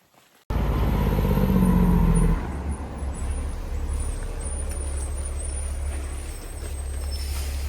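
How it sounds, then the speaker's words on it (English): A large truck carrying a crane moves along a road near a hiking trail, its loud low engine rumble starting abruptly and strongest for the first couple of seconds, then settling into a steady droning hum with faint higher hiss. "Wow, there's a truck moving, like with a crane on it that was moving"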